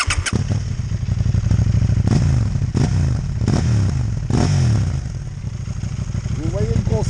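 A 2019 KTM 790 Duke fitted with an Akrapovic exhaust revs loudly and close by, its engine rising and falling in several sharp bursts over a steady throaty idle.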